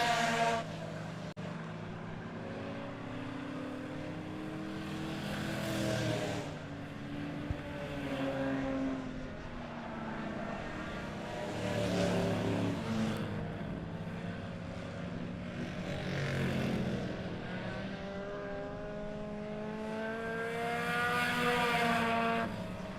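Bomber A class race cars run a feature race at Monett Motor Speedway, a loud continuous engine roar with several passes swelling and fading as the field laps the track.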